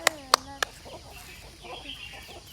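A few sharp, loud clucks from a chicken come close together at the start, then fainter scattered clucking follows in the background.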